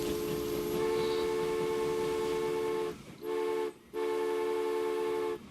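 A freight train horn in the Transport Fever 2 game blares loud and sustained, cutting out twice briefly before resuming, over a low rumbling engine.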